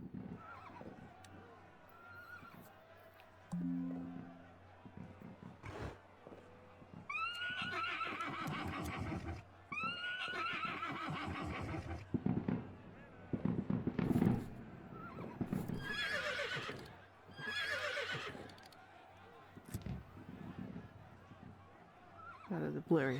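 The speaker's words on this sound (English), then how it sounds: "There's a horse." Several loud horse whinnies with clip-clop hoofbeats in a video game set in Mexico, 1921, mixed with scattered game sounds and a voice speaking in between.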